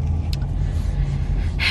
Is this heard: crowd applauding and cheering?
no